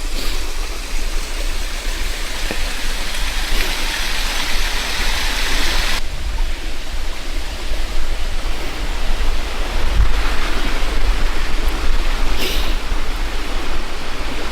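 Water draining into a pool and running down a slope at McLean Mill, a steady broadband rush that stays loud and unbroken throughout, with a brief swell partway through and no talking.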